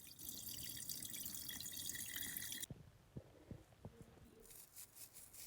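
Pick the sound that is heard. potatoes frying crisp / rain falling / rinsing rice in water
rinsing rice in water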